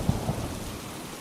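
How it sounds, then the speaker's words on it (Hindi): A heavy downpour pours down in a dense, steady hiss, with a low rumble of thunder near the start. No voices are heard. "मूसलाधार बारिश है,"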